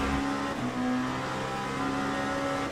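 A race car engine in the sim racing game Le Mans Ultimate drones loud and steady, its tone climbing as it accelerates out of a corner, with no voices over it.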